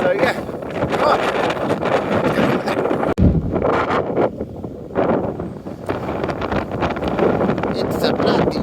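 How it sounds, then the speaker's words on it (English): Heavy wind batters the microphone on a blustery countryside walk near Overhaddon, a loud rumbling roar that eases briefly near the end before surging back, with someone talking over it. "It's a bloody windy."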